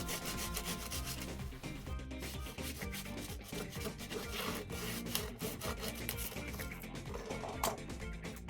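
A hand saw cuts steadily through soft cuttlefish bone to flatten it, producing a continuous, close, rapid rasping scrape with no pauses.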